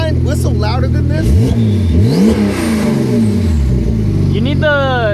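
An exotic car fitted with an aftermarket exhaust revs loudly at a car club event on an airstrip, its engine note rising and falling in sweeps while people talk close by.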